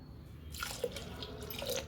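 Milk pours into a pot of melted jaggery for moong dal payasam, a brief liquid splash and trickle starting midway with a few small drips, close and fairly quiet, no voices.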